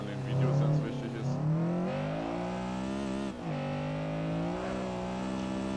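A Honda Civic SiR-II EG6 engine in the racing game Assetto Corsa revs and shifts on a track, its tone rising through the gears with a brief dip at a gear change, heard clearly and continuously.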